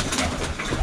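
Baku wide-tailed pigeons coo in a brief, continuous, fairly close murmur with soft pulsing swells and a breathy, noisy background, no voices.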